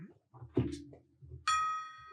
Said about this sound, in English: We need a belated bell ring too, Randy.